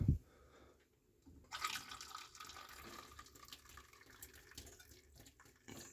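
Citric acid solution is poured into a clogged heat exchanger of a heat accumulator for flushing, a quiet trickling flow that starts after a brief knock and runs steadily, faint and close.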